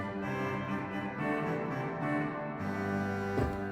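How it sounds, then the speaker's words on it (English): Solo trumpet 8 foot reed stop of the Bovenkerk organ in Kampen, Netherlands, sounding a bright, buzzy line of sustained notes with a change of chord partway through, filling a resonant church space with no talking. "And the trumpet 8 foot."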